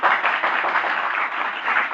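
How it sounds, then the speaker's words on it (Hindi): Steady, dense clapping from a seated crowd at a Safe Shop Sunday venue gathering, filling the whole stretch at an even, loud level with no voices on top. "जोरदार तालियां।"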